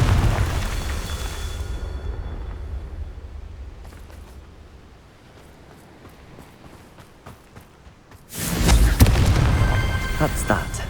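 Confringo fire spell blasts in the Hogwarts Legacy video game: loud rumbling bursts open and close the passage, with a quieter stretch of crackling and scattered hits in between.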